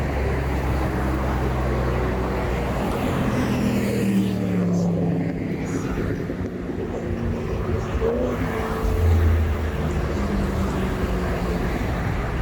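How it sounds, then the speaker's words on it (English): Heavy traffic on the Las Vegas Strip makes a steady, dense rumble of passing cars and engines that never lets up, with faint voices now and then under it. "Plenty of traffic, kind of light on the foot traffic right now."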